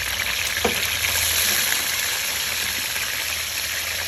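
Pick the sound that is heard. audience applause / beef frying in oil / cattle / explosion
beef frying in oil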